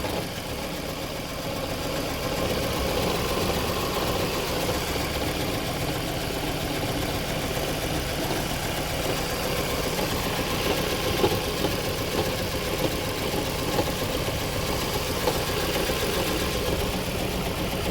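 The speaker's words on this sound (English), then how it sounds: "misfiring is not occurring, but the engine is shaking." A Toyota Estima Hybrid 2AZ-FXE engine idles steadily with a rough, shaking rumble, continuous and close, with no clear misfire bursts standing out.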